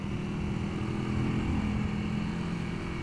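A Honda CRF300L with an opened-up stock exhaust drones steadily at a constant engine speed, close and loud, a continuous buzzing note with no talking.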